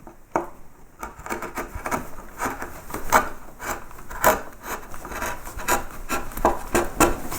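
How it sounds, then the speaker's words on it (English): A V-tool pushed through wood while carving an arts and crafts clock, giving close, repeated scraping and rasping strokes in an uneven rhythm with no talking. "So we just use our V-tool, just push that under there."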